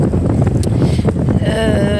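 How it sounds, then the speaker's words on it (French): Strong wind buffets a microphone outdoors beside a coastal salt pond, a loud constant rumbling roar with gusty bursts and a faint whistling tone near the end. "le vent frappe en permanence"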